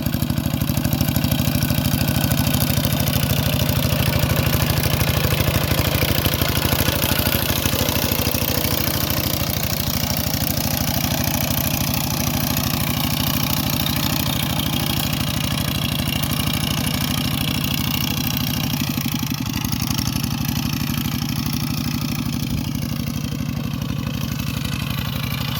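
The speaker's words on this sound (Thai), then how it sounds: "ผู้ที่ยังใช้รถไถเดินตามแบบนี้นะครับ" A walk-behind tractor engine runs steadily and loudly throughout while ploughing a rice field, a continuous low chugging drone with a slight shift in pitch near the end.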